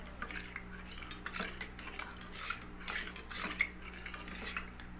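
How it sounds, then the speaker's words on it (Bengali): A spoon whisks a flour paste in a bowl for homemade yeast, making quick, steady clinking taps against the sides in an even rhythm, close and moderately quiet, with no voices. "আগে 1 চামচ মিশিয়ে ভালো করে আমি ফেটিয়ে নেব।"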